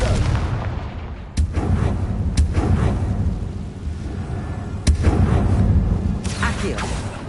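Repeated blasting spell explosions in Hogwarts Legacy on PS4, booming bursts at intervals over continuous battle noise and a low rumble, with a few sharp cracks standing out.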